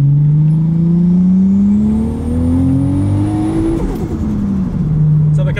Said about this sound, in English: So we're currently driving on low boost, which is around 500 horsepower